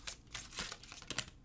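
Tarot cards handled and pulled from a deck, producing quick papery rustles and crisp flicks in uneven bursts, close and soft.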